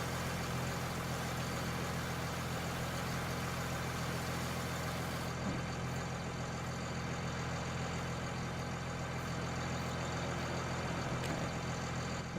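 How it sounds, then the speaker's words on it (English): A harvester engine idles in Farming Simulator 19, giving a steady, unbroken low drone that holds at an even level for the whole stretch with no voices over it. "Get in, just cut the engine off a minute."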